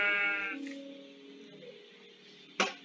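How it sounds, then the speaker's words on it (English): A Minecraft Java Edition sheep bleats, a wavering tone at the start fading over a second or two, followed by a short sharp sound near the end, with some speech around it. "Sheep, do it again."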